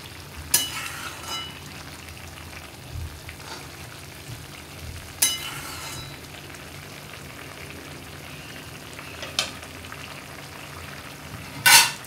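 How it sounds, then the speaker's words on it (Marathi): Dried fish (sukat) curry bubbling in a pan on the stove, a steady soft sizzle and simmer broken by a few scraping stirs of a spoon against the pan. "आपल्या सुकटीला छान उकळी आलेली आहे. जरा आपण हलवून घेऊया."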